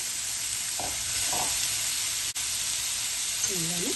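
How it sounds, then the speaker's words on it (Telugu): Beetroot pieces drop into hot oil with tempering spices and green chilli pieces, a loud steady sizzle with a few stirring scrapes and a short pause, while a voice murmurs briefly. "ఇప్పుడు ఈ ముక్కలు వేసేసుకొని కట్ చేసి ఉంచుకున్న బీట్రూట్ ముక్కలు"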